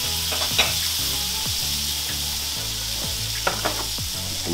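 French toast sizzling on a Weber Q1200 gas grill, a steady close frying hiss with crackles and a few small pops, running continuously without talk.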